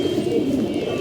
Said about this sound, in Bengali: এই যে কবুতর দেখতে পাচ্ছেন,